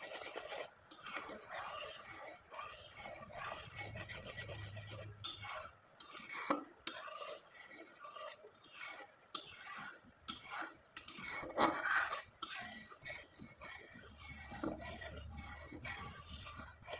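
A spoon scrapes and stirs jaggery syrup with a little added water in a pot, in uneven rasping strokes close by, with a faint low sizzle from the heat now and then.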